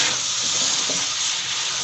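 Macaroni and beef frying in a pan for a beef macaroni dish, giving a steady, close hiss of sizzling throughout with a few faint stirring scrapes and no talking.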